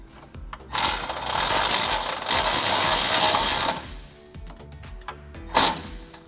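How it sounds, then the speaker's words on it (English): A 10mm wrench tightens a nut on a Barricade HD flat fender flare fitted to a Jeep Gladiator JT, giving a sustained, close mechanical ratcheting burst followed by a few shorter clicks and a final sharp tick. "Get my 10mm wrench on the nut."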